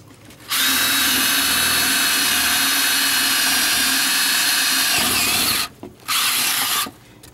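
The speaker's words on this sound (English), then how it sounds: "Then we're going to drill them out." A power drill boring holes while building a solar oven, running loud and steady for about five seconds, briefly stopping, then whirring again in two short bursts before cutting off.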